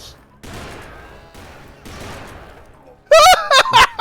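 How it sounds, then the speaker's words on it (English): Volcanic tube-fed lever-action pistol fired in a Western video game, a quick burst of sharp loud shots near the end, after a stretch of quieter talk. "It's a tube-fed lever action pistol. Yeah, it's the volcanic, baby."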